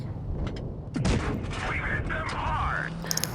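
KV-13 tank cannon firing in a tank video game, with a loud booming shot over steady engine rumble and battle noise, followed by metallic clanks.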